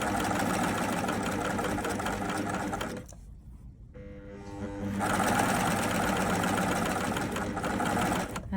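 An overlocker runs steadily, feeding fabric through a belt loop folder accessory, its motor whirring loud and close, pausing briefly before starting up again and running on.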